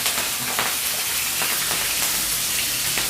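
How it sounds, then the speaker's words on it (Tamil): Long-cut garlic and green chilies frying in a little oil for chilli chicken, a dense, even, loud sizzle running without a break. "1 நிமிஷம் நல்லா அந்த பூண்டோட வாசனை வந்து வர வரைக்கும் ஃப்ரை பண்ணணும்."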